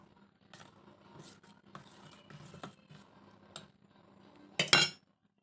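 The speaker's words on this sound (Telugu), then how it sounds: "ఒకసారి కలుపుకుందాం." A spoon stirs jaggery juice in a bowl, making faint, scattered clinks against the dish and ending in a sharper, louder scrape and clatter.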